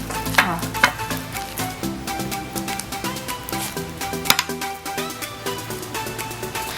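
Glow-in-the-dark slime made with Elmer's glow glue being stirred, giving a steady run of wet, squelchy scraping with a few sharper clicks, all under a tonal background of music.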